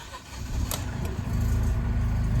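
A 2014 Fiat 500 0.9 TwinAir engine starting after standing for a few days: a brief cranking then a low two-cylinder idle settling in, close and steady.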